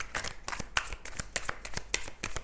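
Tarot cards being shuffled for a weekly reading, a quick run of close, crisp riffling slaps and flicks in an even rhythm, soft and without talk.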